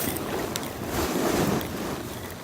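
Sleeping pad rustling and crinkling as someone lies on it and shifts between side and stomach positions, a steady broadband noise filling the whole stretch, close and fairly loud, with no talking.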